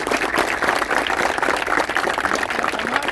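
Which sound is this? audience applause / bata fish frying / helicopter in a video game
audience applause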